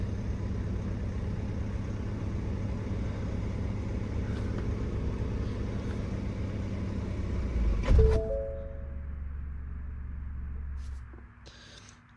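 A Ford Kuga Mk2.5 engine idles steadily in gear, a low continuous hum near the microphone; partway through a brief clunk sounds and the idle note shifts slightly before fading lower toward the end.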